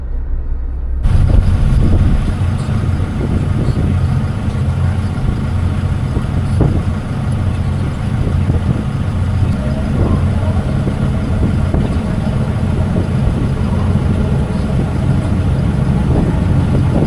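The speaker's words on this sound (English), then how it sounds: "It's a lot more comfortable just sitting in the truck. Letting it idle." A truck engine idling during a stop on Koh Chang island, a constant low rumble with the air conditioning running, steady and close for the whole stretch after a brief quiet start.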